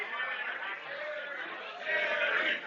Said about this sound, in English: As you can hear there from the crowd